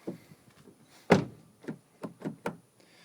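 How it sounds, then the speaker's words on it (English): A door on a 2006 Pontiac Vibe / Toyota Matrix is locked after a handle replacement: one firm thunk followed by several lighter clicks and taps from the latch, close up with no talking. "Close the door, pull the handle, it works. Lock the door"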